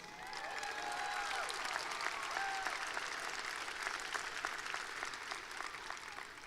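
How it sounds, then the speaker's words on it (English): A large graduation audience at a high school ceremony applauds steadily, a dense sustained wash of clapping from a crowd, with a few whistles and cheers rising above it. "please stand up as we again applaud for your achievements"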